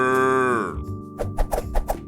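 A single cow moo, loud and sustained, fades out; short voiced sounds follow.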